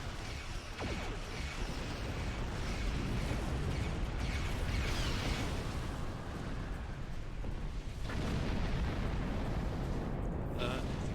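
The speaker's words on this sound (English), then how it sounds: "Nice explosions." Rumbling, crackling explosions in a Klingon starship battle video game, dense and continuous bursts layered over one another without a break, loud throughout.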